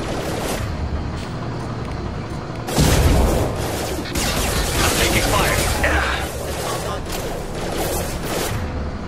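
Gunfire in the sci-fi shooter Mass Effect 2 comes in loud bursts and rattling volleys amid combat noise, with a voice speaking briefly during the firefight.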